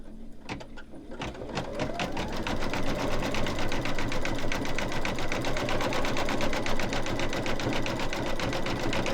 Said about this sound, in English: now it's going to do the satin stitches going around